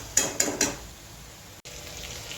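Green chilies being stirred in yogurt in a hot pan: three quick scraping clinks of a utensil against the pan, then a soft steady sizzle on its own.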